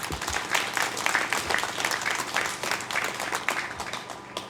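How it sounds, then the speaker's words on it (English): Sustained applause from an audience at a political gathering, dense overlapping claps at steady moderate loudness filling the whole stretch, with no speech over it. "give him a round of applause"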